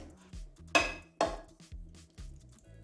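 Two sharp ceramic clinks close by, a plate set down with a knock onto marinated cabbage rolls in a pot, among quieter kitchen clatter and light tapping.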